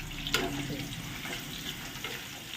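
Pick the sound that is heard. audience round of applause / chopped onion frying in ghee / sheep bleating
chopped onion frying in ghee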